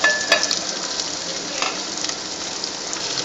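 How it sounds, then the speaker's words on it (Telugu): Onions and green chillies sizzle and fry in a pan for an amaranthus and prawn curry, with a steady hiss and a few light utensil clinks near the start. "ముందు ఆనియన్స్ పచ్చిమిరకాయలు వేసేస్తున్నా ఫ్రెండ్స్"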